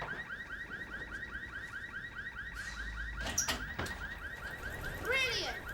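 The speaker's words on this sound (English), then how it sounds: "bloody stupid car alarms that only go off" A car alarm going off at night, a rapid repeating electronic warble cycling steadily, fairly loud and a little distant, with a few knocks and rustles and a brief child-like voice partway through.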